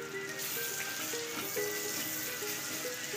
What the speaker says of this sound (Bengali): রসুনটা দিয়ে একটু ভেজে নিতে হবে যাতে রসুনের কাঁচা গন্ধ চলে যায়।